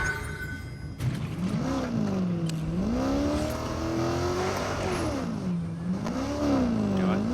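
A car engine in Fortnite revs in smooth waves, its pitch swelling and dipping repeatedly, close and continuous with no pauses.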